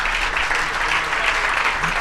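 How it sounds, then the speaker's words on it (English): Guests at a leadership network launch dinner clap in a thick, sustained round of applause that stays loud and even for two seconds. "I think deserves a round of applause."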